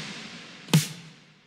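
A single layered snare hit for an 80s synthpop beat, a sharp crack followed by a washy reverb tail that fades quickly, alone and close.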